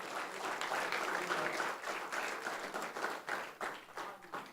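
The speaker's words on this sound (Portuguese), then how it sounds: "Você pode aplaudir ao Senhor?" A church congregation applauds, many hands clapping in a continuous, fairly distant wash of applause that holds steady before gradually breaking into looser, uneven claps near the end.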